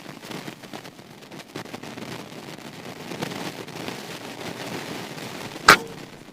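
A single sharp hunting rifle shot cracks out near the end, after several seconds of low background noise, during accuracy target shooting.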